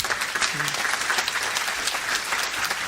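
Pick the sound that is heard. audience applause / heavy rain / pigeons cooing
audience applause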